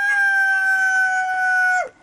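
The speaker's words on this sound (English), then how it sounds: "And your hens here, they are Brahma hens, right?" A lemon pile Brahma chicken in a backyard flock gives a single loud, sustained, drawn-out call close by that cuts off sharply at the end.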